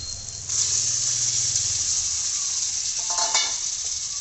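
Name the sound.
chicken frying with spice paste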